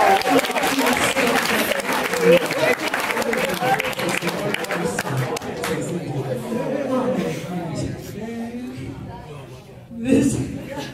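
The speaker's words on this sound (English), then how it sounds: "Give all of the authors a nice round of applause." Crowd at a senior all-night party hypnotist show clapping for the participants, loud sustained applause mixed with chatter and chuckles, thinning out toward the end before a brief late swell.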